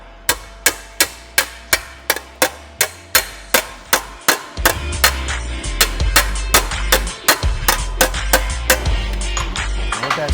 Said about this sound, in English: we're going to hammer on that thing while it's hot.